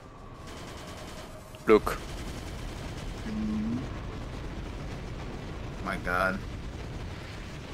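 Rapid, faint gunfire rattles from the video game Battalion Wars 2, with a few sharper shots standing out, while a player talks excitedly over it.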